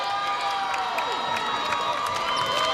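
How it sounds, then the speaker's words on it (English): Large crowd roaring and cheering continuously at a high school state basketball championship game inside Golden One Center, a dense, loud wall of shouting and applause with high-pitched voices throughout. "They've got a great crowd here at Golden One Center for both these teams,"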